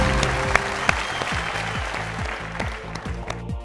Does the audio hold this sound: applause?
yes